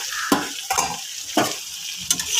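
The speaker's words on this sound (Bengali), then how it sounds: "এবার একে একে আমি মশলাটা দিয়ে দেবো, আর একটু ভাজা ভাজা হোক।" Spices sizzle and crackle in hot oil, interrupted by several distinct scraping stirs of a spoon against the pan, close and clear.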